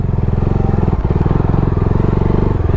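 A new motorcycle stuck in loose sand, its engine revving hard with a steady, rapid thumping pulse as the wheel slips, loud and close throughout.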